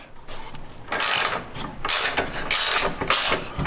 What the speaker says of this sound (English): now we're going to go ahead and remove the rear upper shock bolt using an 18mm